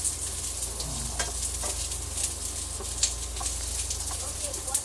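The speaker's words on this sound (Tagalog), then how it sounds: "Gisa lang po natin ang luya, and then pag lumabas na po yung kanyang aroma, isunod naman po natin ang sibuyas." Ginger, onion and garlic sizzling in a hot pan for chicken tinola, a steady close frying hiss with occasional clinks of stirring and a voice talking over it.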